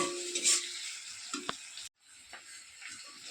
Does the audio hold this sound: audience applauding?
no